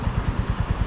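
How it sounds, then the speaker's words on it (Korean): A Royal Enfield motorcycle, Classic 350 or Interceptor 650, runs with a low, pulsing engine throb. Steady rhythmic thumps repeat about every tenth of a second, close and moderately loud, under wind-muffled recording with no talk. "엔진 소리."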